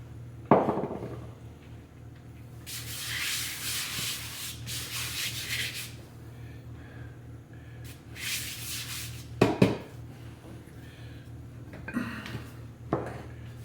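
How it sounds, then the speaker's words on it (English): A dough scraper scrapes and turns soda bread dough out onto a floured worktop in several short, close scraping bursts, with a few sharp knocks between them and no voices. "get the scraper and turn it out onto a floured surface"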